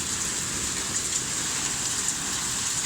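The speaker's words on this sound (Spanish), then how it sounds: "Cada vez más fuerte, máximo granizo." A hailstorm pelts a city in Buenos Aires in October, producing a dense, constant drumming patter with scattered sharper hits, loud and close.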